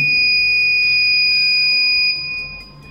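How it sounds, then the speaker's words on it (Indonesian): A loud, steady electronic buzzer alarm from a non-contact body temperature monitor, triggered above 37.5 degrees, sounds continuously up close, holding one shrill pitch before dropping slightly in level near the end. "maka nanti akan berbunyi buzzernya ini"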